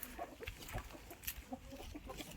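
Hens in a farm shed cluck softly in short, scattered calls at a moderate distance over a low, steady background hum.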